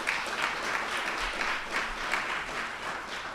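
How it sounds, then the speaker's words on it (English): A room of listeners gives a short burst of steady applause, a moderately loud, uniform patter of clapping lasting a few seconds. "So please give them a round of applause."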